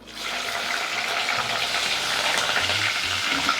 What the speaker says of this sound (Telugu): నూనె మరిగింది కదమ్మా ఇప్పుడు ఇందులో మనకి నాలుగు పచ్చిమిరపకాయలు ముక్కలు కోసుకుని వేసుకోండి